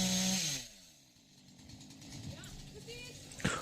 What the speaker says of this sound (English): He's whipping up the chainsaw.